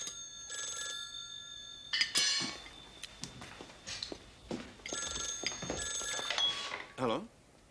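An old telephone bell rings in bursts in a 1978 drama scene, sharp metallic trills separated by pauses, mixed with footsteps, clatter and people talking nearby.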